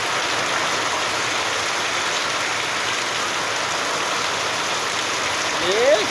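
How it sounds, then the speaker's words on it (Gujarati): Steady wash of heavy rain pouring down, dense and constant, with a brief faint whistle-like sound near the end. "જો આપણો વરસાદ આજનો બહુ સારામાં સારો પણ ચાલુ છે"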